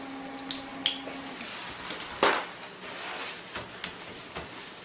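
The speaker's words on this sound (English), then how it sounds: "frying our eggplant" Soft, steady sizzling of eggplant frying in olive oil for moussaka, with faint crackles and a brief louder hiss midway, no voices.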